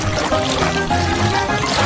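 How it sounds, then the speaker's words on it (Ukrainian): Blue water pours and trickles steadily onto a cake for a couple of seconds, a close, splashy liquid sound with no talking. "Заповнюю його блакитною водою."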